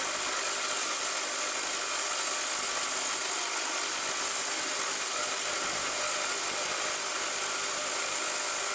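A 6.5-litre ultrasonic cleaner filled with cleaning solution and used to clean nitro model engines runs steadily. It gives a constant, fairly loud hiss and buzz with a bright high-pitched edge and no breaks or talk.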